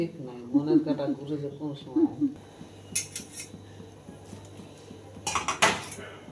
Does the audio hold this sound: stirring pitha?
yes